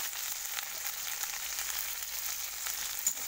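Okra frying with salt and turmeric in a pan, a soft steady sizzle with faint crackles, fairly quiet and close with no talking.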